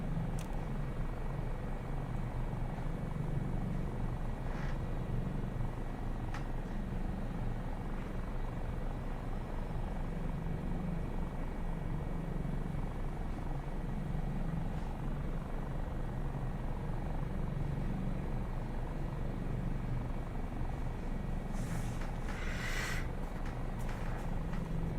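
Steady rotor and turbine drone of an HH-65A Dolphin helicopter in Microsoft Flight Simulator 2024, constant and continuous throughout with no voices, a faint higher whine briefly near the end.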